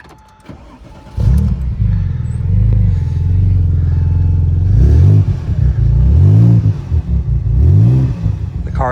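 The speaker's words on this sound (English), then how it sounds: "it's a much throatier sound than your standard factory exhaust" A cold 2002 manual Porsche 911 Turbo (996) with an aftermarket exhaust cranks and fires, then blips through several throaty revs in quick succession, loud and close with no talking.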